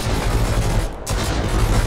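Rapid gunfire from a shootout at a large bandit camp in the survival game Mist Survival, a loud dense barrage with a brief lull near the middle before it resumes.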